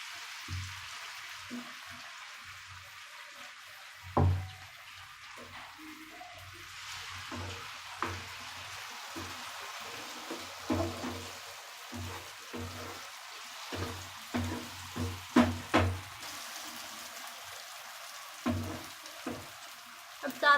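Sago pearls frying in a pan for vrat sabudana khichdi, with faint sizzling and scattered soft stirring clatters throughout, no talking heard.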